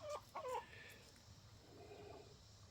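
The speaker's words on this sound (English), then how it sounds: "that brown Rhode Island Red, I don't know if she's trying to lay an egg or if she's broody" A Rhode Island Red hen gives a couple of quiet clucks at the start, then soft, low murmuring fowl sounds fade into faint background ambience.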